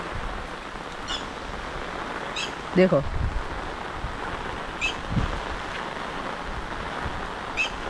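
Steady rain pours down in a continuous soft hiss, with a few brief clicks and knocks over it and a voice speaking briefly partway through.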